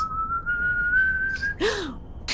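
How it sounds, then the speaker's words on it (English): A single whistled tone rises gently and holds for over a second, then a short downward swoop follows, clear and close inside a house. "You hear a whistling throughout the house."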